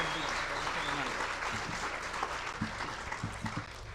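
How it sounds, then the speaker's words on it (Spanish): Audience applause at a church conference: steady, dense clapping from a crowd throughout, with a voice briefly heard over it toward the end. "So vamos a dar un aplauso, pero bien fuerte"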